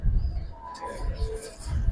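Black-necked pigeons coo in soft, low, rounded calls over a rumbling, close-up background at a pigeon keeper's loft.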